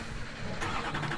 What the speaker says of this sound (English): now what I'm going to do is I'm going to start the engine